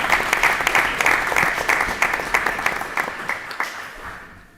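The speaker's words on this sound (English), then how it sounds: "Another big round of applause for our student council." A room at a school board of education meeting applauds the student council, with crisp, individual claps close by that gradually taper and fade toward the end.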